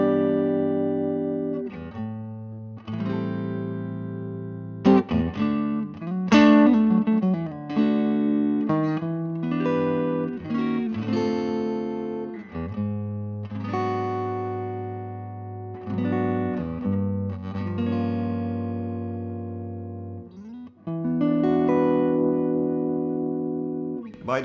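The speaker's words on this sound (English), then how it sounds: "I will now let you hear the neck pickup," Telecaster electric guitar on a warm neck pickup with some drive, playing sustained chords and melodic runs, steady and fairly loud, no voices.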